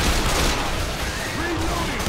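Dense, continuous gunfire from Left 4 Dead 2 during a zombie horde attack in the Dead Center hotel, shots overlapping into a loud steady barrage with game effects throughout.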